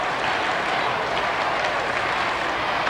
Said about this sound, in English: The crowd lapping it up.